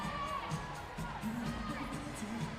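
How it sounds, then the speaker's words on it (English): A large crowd at a college women's gymnastics meet, many of them youngsters, murmurs and shouts faintly in a big arena, with scattered cheers and children's voices in the background. "a great crowd still filing in"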